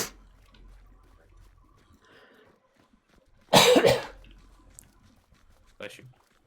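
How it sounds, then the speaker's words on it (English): A single sharp cough from a player during a gaming stream, short and close, standing out against near silence, followed by a brief faint second sound. "It was just a cough"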